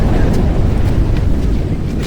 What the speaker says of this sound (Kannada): ಗಾಳಿ ಭಾಳ ಐತ್ರಿ, ಮಾತಾಡಕ್ಕೆ ಇದಾಗತ್ತೈತಿ